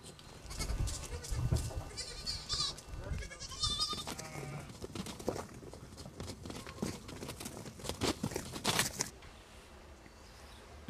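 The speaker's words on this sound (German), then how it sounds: "Ziegenmütter haben ihre Kinder um sich, Galopprennen rund um den Stall" Mother goats and their kids at a mountain farm stable in Liechtenstein bleat repeatedly, several high wavering calls close by over scuffling and hoof movement.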